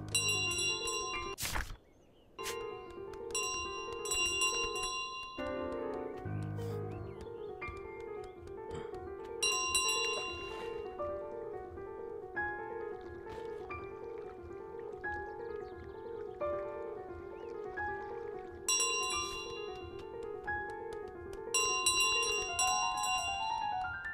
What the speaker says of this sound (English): I'm gonna stop ringing the bell.